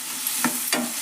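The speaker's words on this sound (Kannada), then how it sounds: "ಇದನ್ನು ಫ್ರೈ ಮಾಡೋಣ್ರಿ ಎಣ್ಣೆ ಒಳಗೆ." Chopped tomatoes fry in hot oil for an okra sukka bhaji, with a steady close sizzle and two short scraping stirs of the spoon partway through.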